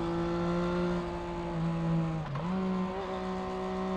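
A car engine with its stock factory exhaust holds a steady droning tone from inside the cabin, then briefly shifts pitch as the driver eases off and gets back on the throttle.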